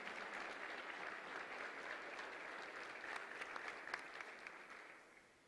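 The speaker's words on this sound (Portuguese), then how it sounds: "Pode aplaudir a Jesus" Applause from a church congregation during a Portuguese-language sermon, a fairly quiet but continuous wash of clapping from many people that fades out at the end.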